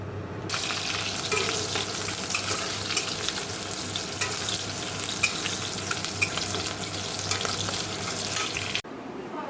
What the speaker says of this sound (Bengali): এটা ডালটা ফোড়ন বসিয়ে মাছ ভাজা বসিয়ে দিয়ে এটা মাখবো